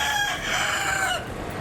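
Chickens clucking while a rooster crows nearby, a loud drawn-out crow with harmonic calls lasting over a second.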